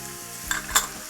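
Onions sautéing with cumin, chili powder and tomato paste, a soft sizzle broken by two quick bright stirring scrapes near the end of a brief moment, no talk.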